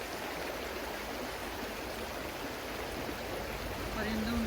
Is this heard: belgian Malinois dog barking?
no